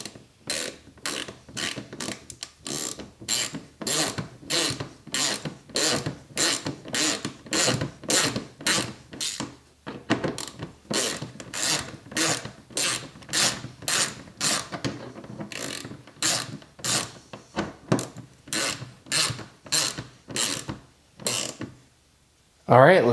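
A wrench ratchets rapidly while tightening the input shaft bolts on an EZGO RXV golf cart, producing dozens of crisp, close clicks in rhythmic runs with short breaks between them.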